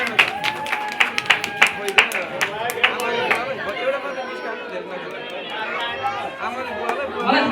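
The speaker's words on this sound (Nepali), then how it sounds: "एउटा जोरदार ताली दुवैजनाको लागि" Guests clap and cheer for a couple at a 50th wedding anniversary gathering, with sharp bursts of applause early on giving way to busy crowd chatter and talk throughout.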